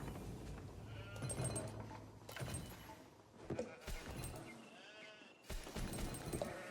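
Sheep bleat repeatedly during an Age of Empires match, several short quavering calls scattered among game clicks and sharp effect sounds, fairly faint overall.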